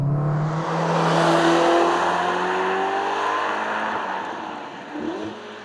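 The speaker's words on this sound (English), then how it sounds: "this is the latest incarnation of Ferrari's multi-award-winning V8 engine." A Ferrari Amalfi's turbocharged V8 accelerates hard, its tone climbing steadily in pitch through the revs before easing off and fading slightly, with no speech over it.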